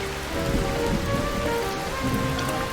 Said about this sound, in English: Wow, look at that rain.